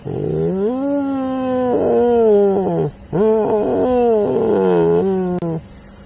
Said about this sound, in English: this sort of low, you might hear it again just now, sort of like a throaty howl almost